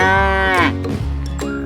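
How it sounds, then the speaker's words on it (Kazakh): A cow moos loudly in a single drawn-out, tonal call that rises and then breaks, heard close and on its own with no talking. "Сиыр."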